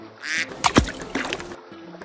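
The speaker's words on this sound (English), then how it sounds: "Duck." A duck gives a short burst of quacks, a few quick nasal calls lasting about a second, fairly close and alone.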